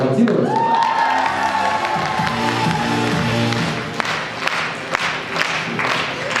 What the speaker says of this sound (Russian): вообще надо громко аплодировать